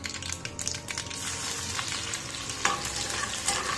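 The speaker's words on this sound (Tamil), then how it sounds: "கடுகு பொரியட்டும்." Mustard seeds and crushed garlic frying in hot oil in a pan for a Kerala-style okra stir-fry, giving a steady close sizzle with light stirring clatter and a few sharper pops, no talk.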